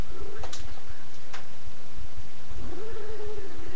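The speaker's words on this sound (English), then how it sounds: "I'm here tonight with my hyper cat, Shadow." A hyper house cat gives loud, close meows and caterwaul-like calls, with a drawn-out rising cry near the end over a clicky, rustling background.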